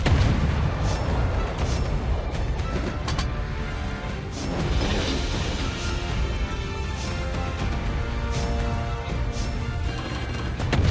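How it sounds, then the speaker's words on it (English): Naval guns fire repeatedly from a Harugumo destroyer in the World of Warships Blitz game, a dense barrage of booming shots and crashing impacts over a constant rumbling background, loud and continuous. "I'm shooting into the smoke and not hitting anything"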